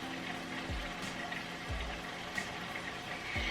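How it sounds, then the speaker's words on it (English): Lupin flour pasta mixture poured onto a large cookie sheet pan, a steady wet rushing pour close by with a few soft low thumps as it lands, no talking. "I'm just going to pour this mixture onto my pan."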